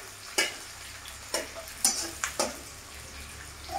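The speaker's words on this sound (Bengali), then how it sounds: "তো এবার আমি পেঁয়াজটাকে ভালো করে ভেজে নেব।" Onions frying in a pan for ghugni, a soft steady sizzle broken by several sharp scraping stirs of a spoon against the pan, close by and alone without talk.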